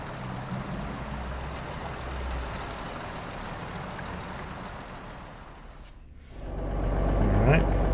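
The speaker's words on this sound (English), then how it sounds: "listen to it as it comes past you and listen to the other truck as well" Trucks in the video game ECO rumble past, a steady heavy engine drone that drops briefly and then swells louder and closer as a second truck approaches near the end.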